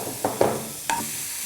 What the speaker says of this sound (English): You just need to slightly saute them so that they're cooked.